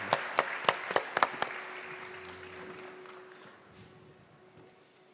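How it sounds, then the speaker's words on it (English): At the NEXT.io Valletta 2024 conference, a few people clap for the panelists: half a dozen crisp, separate claps close together in the first second and a half, then fading into a faint, thinning patter and quiet room tone. "let's give a round of applause for our panelists"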